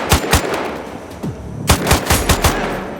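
Gunfire in the video game Sniper Ghost Warrior Contracts 2: loud, sharp shots ring out in quick clusters, a pair first, then a rapid burst of several cracks with echoing tails, close and without talk.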